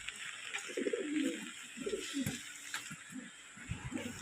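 Pigeons in a home loft coo close by in repeated low, throaty phrases, overlapping one another against a faint steady hiss.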